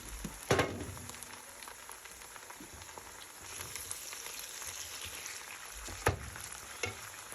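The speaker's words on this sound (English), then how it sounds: "After 1 minute, I'm adding in the minced meat." Minced meat and diced onion frying in oil, a constant soft crackling sizzle with a few sharp clacks of a utensil breaking up the meat.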